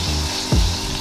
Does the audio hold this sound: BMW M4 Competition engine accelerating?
no